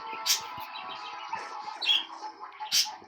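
Birds chirp and tweet at a moderate distance, a few bright calls standing out over a soft, steady background hum.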